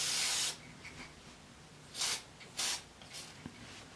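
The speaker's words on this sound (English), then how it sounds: "now we're going to spray paint it on." Short hissing bursts of a spray paint can, one long blast followed by a few brief puffs, close by in a quiet room.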